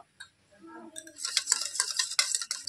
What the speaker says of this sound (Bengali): টক দইটা একটু ভালো করে ফেটিয়ে নেবো।